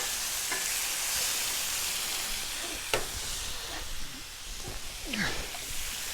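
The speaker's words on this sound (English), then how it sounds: "Catfish is really good on the griddle" Catfish and steaks sizzle on a Blackstone griddle with a continuous bright hiss, punctuated by a few scrapes and clicks of a spatula and a short squeaky scrape near the end.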